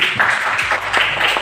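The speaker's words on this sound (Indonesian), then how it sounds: "Tepuk tangan dulu." Students in a physical education class clap their hands briefly in uneven, close bursts of applause.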